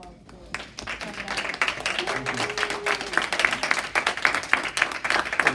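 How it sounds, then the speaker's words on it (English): Crowd applause for a council member at an NAACP community event, a broad, steady wash of clapping that swells and continues throughout, with voices mixed in. "please give us council a round of applause for coming out"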